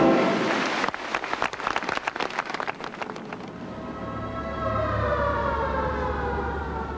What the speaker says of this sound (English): there's a bit of a racket at 7 a.m. when blaring sirens signal the start of the working day